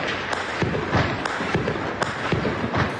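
Rapid gunfire crackles during a large police operation in Rio de Janeiro, a fast irregular string of sharp thuds and pops over a dense background noise.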